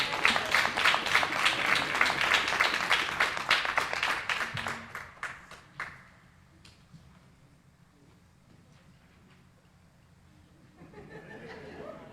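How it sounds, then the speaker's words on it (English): Audience applause at a township council meeting, loud, dense clapping for several seconds that fades out, followed by a quieter stretch with faint room noise and a soft rise near the end. "Give me a round of applause, please."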